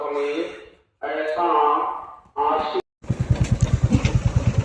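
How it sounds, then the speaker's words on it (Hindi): A Royal Enfield Classic motorcycle engine runs after a few spoken phrases, settling into a loud, rhythmic thumping idle with evenly spaced low pulses, close by. "अभी हम बैठे हैं और गोलू बाइक राइड कर रहे हैं"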